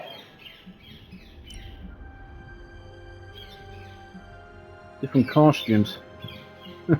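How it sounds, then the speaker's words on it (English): Birds chirp outdoors in the background, with several faint, quick tweeting bursts early on, while a person speaks briefly near the end. "Yeah, sorry about the birds in the background."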